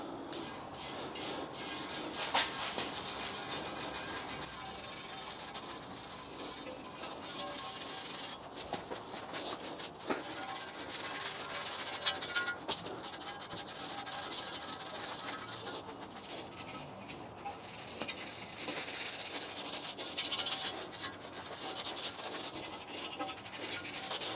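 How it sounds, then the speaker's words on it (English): Rust converter being brushed onto a rusty BMW rear differential, a continuous close scrubbing and rubbing of bristles on metal, uneven in pace with brief pauses, fairly quiet and without talk. "let's start applying the rust converter."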